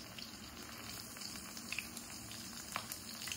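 Paneer sticks fry in a pan with a soft, continuous bubbling sizzle and scattered small pops and crackles, low in level and close by; no voices.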